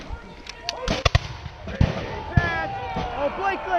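Revolutionary War reenactors fire a musket volley: a ragged cluster of sharp cracks and pops, close and distant, scattered over a few seconds amid shouting voices.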